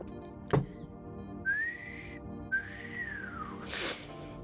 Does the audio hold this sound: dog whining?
no